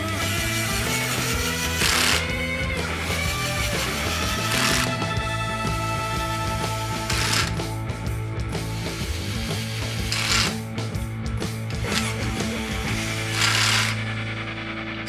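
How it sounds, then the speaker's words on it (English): Metal screws are fitted into a motorcycle outer primary case, giving light metallic clicks, ratcheting and small clinks over a steady mechanical background, with no talking. "we can start putting our screws in here"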